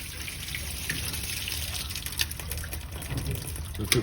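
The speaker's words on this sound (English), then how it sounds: "Let the water run off." Water gushes steadily from a busted pipe after a deep freeze, a continuous broadband hiss and splash at close range with small spurts and drips, and no one speaks.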